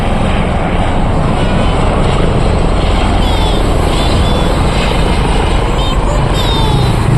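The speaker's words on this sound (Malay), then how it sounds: "Tu helikopter. Besarnya." A large helicopter circles overhead, its loud engine and rotor roar filling everything with a constant heavy rumble and a faint whine above, staying close and steady throughout while voices are barely noticeable beneath it.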